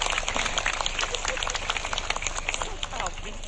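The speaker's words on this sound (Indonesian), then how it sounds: "tepuk tangan buat Pak Bupati kita sama Ibu." Audience applause for a regional head and his wife at an Islamic sermon gathering in Indonesia, steady dense clapping from a crowd filling the whole stretch at moderate volume.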